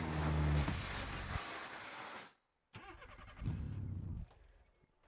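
A vehicle engine cranks and starts in BeamNG.Drive during a camper-towing run, with a loud rough burst, a brief silence, then another start and a mid-pitched running rumble before it cuts out, close and without talking.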